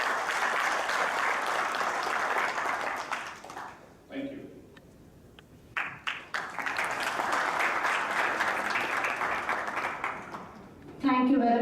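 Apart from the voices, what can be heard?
applause for the team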